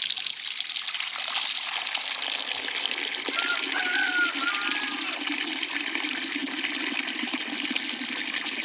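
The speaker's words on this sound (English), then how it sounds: "And now we'll fill our bucket with just regular water." Tap water pours steadily into a bucket packed with comfrey leaves that are weighed down with bricks, a continuous close, gushing splash that runs the whole time with no other sounds.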